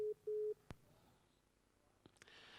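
Busy tone on a phone line after a caller's call drops during a live radio show: two short steady beeps, followed by a faint click and some low background noise.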